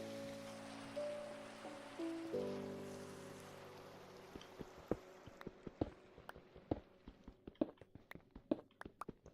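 Steady patter of rain in a blocky crafting video game, a dense hiss that fades out partway through, leaving scattered clicks and taps from gameplay.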